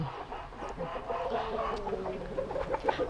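A ten-month-old rooster weighing about five kilograms clucks softly and repeatedly up close, a low continuous murmur of farm fowl sounds.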